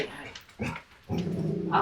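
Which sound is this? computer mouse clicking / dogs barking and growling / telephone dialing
dogs barking and growling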